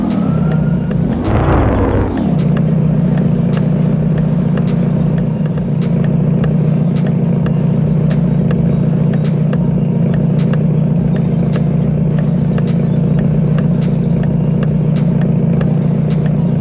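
Car engine in a mobile driving simulator game with realistic hand animation, a steady mid-pitched drone after a brief rising rev near the start, continuous and fairly loud throughout with no talk.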